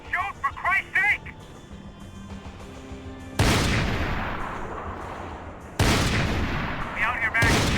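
Gunfire in a Max Payne 3 shootout: two loud, broadband blasts, one around the middle and another near the end, each decaying slowly, with voices shouting over the action before and between them.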